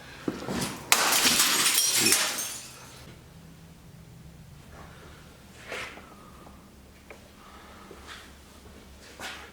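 Glass from an art gallery breaking in a loud crash lasting about two seconds, with smaller clinks and tinkles of settling shards following in quieter spells.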